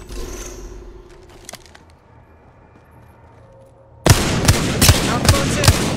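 Gunfire from the video game Apex Legends: after a quiet stretch, a burst of loud, sharp shots rings out rapidly for the last two seconds, with a voice heard faintly earlier.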